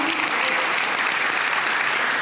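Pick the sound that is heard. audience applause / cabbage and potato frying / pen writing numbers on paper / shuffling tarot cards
audience applause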